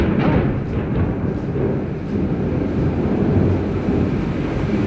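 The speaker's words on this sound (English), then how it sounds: "Very loud thunder." Deep, loud rumbling that rolls on steadily, like heavy thunder close by, with no voices over it.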